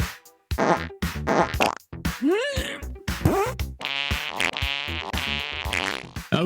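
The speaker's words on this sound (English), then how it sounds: "Do I have a fart sound?" A cartoonish fart sound effect, a string of loud, buzzy, sputtering blasts with rising squeaky tones, broken by short pauses.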